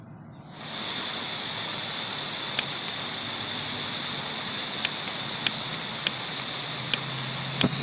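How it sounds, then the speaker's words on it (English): Camping gas stove burner lit outdoors on a bicycle touring trip, bursting into a loud steady roaring hiss that holds constant close by, with a few faint ticks on top. "Now I will light my stove."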